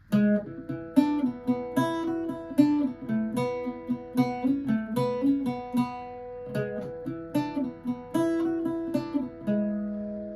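An Irish bouzouki picks the first three lines of the jig "Old Hag You Have Killed Me", bright plucked notes in a lilting triple rhythm over ringing drone strings, close and solo.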